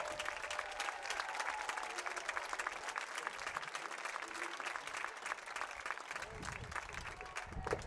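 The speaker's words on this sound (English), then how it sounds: "please join me in giving these students and their parents and guardians a huge, much-deserved round of applause" A stadium crowd at a high school football game between Louisburg and Ottawa gives students and their families a sustained round of applause, distant and steady with cheering voices mixed in.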